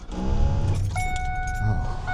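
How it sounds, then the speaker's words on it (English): A car's power antenna extending, a short whirring motor hum with a rising whine and tonal buzz lasting a couple of seconds over a low idling engine rumble, close by. "love the sound of that power antenna"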